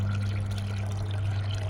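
Homemade humic acid liquid fertilizer, diluted with water by the half mug, poured into garden plants as a steady continuous stream over a low hum.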